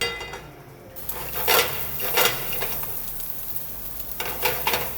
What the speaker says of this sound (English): basically what we want is just to sear the tempeh and allow the seasoning to give it a layer of crunchiness